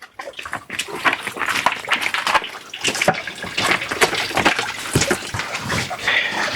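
Water drawn from a spring and poured into a vessel in a rural village: irregular splashing and glugging pours, close and fairly loud, continuing for several seconds with short pauses between bursts.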